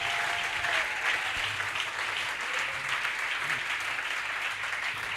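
A church congregation claps steadily in praise, a dense continuous wash of applause from many hands at close range, with no talk over it.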